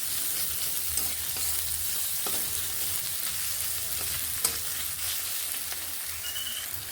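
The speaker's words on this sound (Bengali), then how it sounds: "এবার এখানে আমি পেঁয়াজগুলোকে ভেজে নিচ্ছি" Onions fry in a pan with a loud, continuous hissing sizzle broken by occasional faint stirring scrapes, with no voices.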